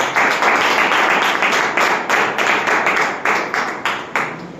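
An audience at an office seminar closing in Durg claps loudly and continuously, the dense applause swelling in rhythmic waves throughout.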